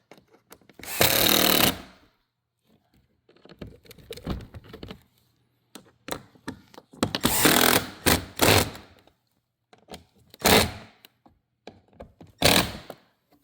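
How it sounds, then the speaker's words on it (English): A power tool driving screws into a Toyota Prius bumper, several loud whirring bursts of a second or so each, separated by quiet pauses and faint handling clicks. "After you do that, put all your screws in, tighten them up."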